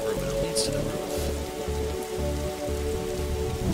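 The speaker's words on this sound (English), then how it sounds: "I end up on the roof in the rain" Steady rain patters on a roof in the video game The Darkside Detective, a continuous close hiss running under a looping, rhythmic low music bed.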